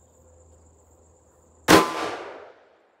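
A .357 Magnum snub-nose revolver fires a single powder-coated 162-grain flat-point cast lead bullet, one sharp, loud report that rings out and decays over about a second after a quiet lead-in.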